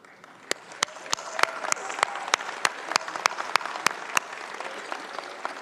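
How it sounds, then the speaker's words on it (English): An audience in a university auditorium applauds at a 2019 graduation ceremony. Scattered, distinct claps build into steady moderate applause at a middle distance. "give them the biggest round of applause for all their support throughout your amazing journey"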